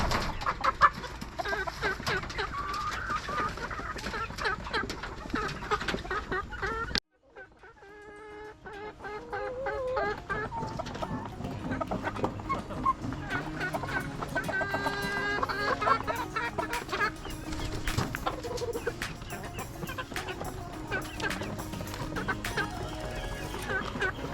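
Country chickens cluck and chatter in a poultry setup, busy overlapping calls that cut out abruptly partway, then resume and carry on steadily to the end.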